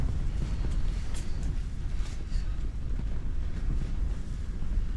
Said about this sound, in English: That wind is, that's got to be 40-mile-an-hour gust out there.